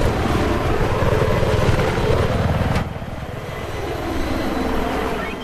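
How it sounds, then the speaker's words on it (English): A military helicopter in Battlefield 3 roars close and loud with constant rotor and engine noise, easing briefly midway before swelling again, with no talk over it. "Chopper's coming up behind us."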